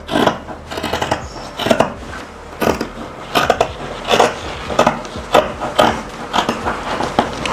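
Scissors cutting through a drafted blouse pattern, giving a series of close, rhythmic crisp snips and rustles of paper or fabric repeating roughly every half second.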